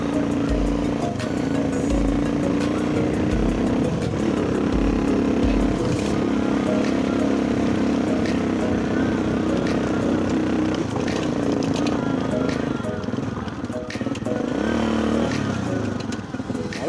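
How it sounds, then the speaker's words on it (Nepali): A motorbike engine labours steadily uphill on a village road near Pulchowk in Syang, Mustang, droning loud and close throughout, with voices talking over it. "बाइक चाहिँ जान्छ अग्लोसँग"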